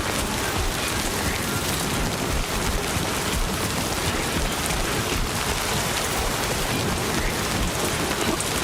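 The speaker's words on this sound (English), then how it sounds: "I don't really have time because of the rain." Steady, heavy rain in a video game, a dense unbroken downpour pattering on surfaces, loud and constant with no break.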